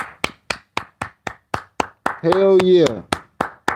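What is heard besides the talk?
hand clapping applause for new subscribers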